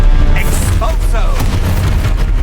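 An Expulso explosion spell in Hogwarts Legacy, a loud booming blast with whooshing magical effects over a continuous rumbling combat background.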